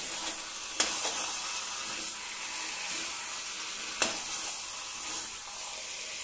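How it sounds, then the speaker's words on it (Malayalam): Chicken roast frying dry in a pan, with no water added, gives a steady close sizzle as it is gently stirred, and two sharp clicks of the spoon against the pan stand out. "ചെറുതായിട്ടൊന്നുകൂടെ ഒന്ന് ഇളക്കി കൊടുക്കാം"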